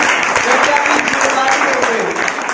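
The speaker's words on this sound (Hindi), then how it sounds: "उनके लिए एक जोरदार तालियां होनी चाहिए" Audience clapping at a business plan meeting, a loud dense patter of applause held steady throughout with some voices underneath.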